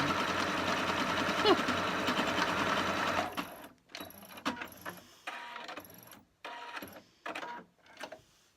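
A Singer 8500Q sewing machine runs a fast continuous stitching whirr for about three seconds, then stitches in short stop-start bursts separated by quiet gaps.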